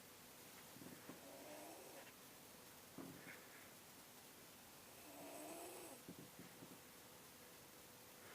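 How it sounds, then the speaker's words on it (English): A sleeping young boy snores in a series of rasping breaths that come in slow, irregular cycles a few seconds apart. The snores are close but fairly quiet against low room hiss. "my little brother don't believe me when I say he be snoring pretty loud"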